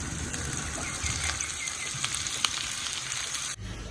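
Potatoes cook in a pan over a village clay stove with a steady, close sizzle and faint crackles running throughout, cutting off abruptly just before the end.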